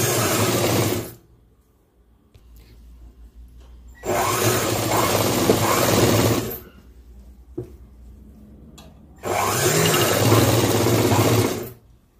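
A sewing machine stitches cloth pieces in three loud, close bursts of steady whirring, each lasting about two seconds, with quiet gaps and faint handling noises between them.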